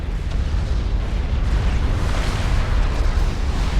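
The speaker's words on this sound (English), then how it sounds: "I think I saw a structure detonate right there" Structure detonation in the strategy game Supreme Commander 2, a sustained heavy rumbling explosion roar, loud and dense throughout, with no separate distinct blasts.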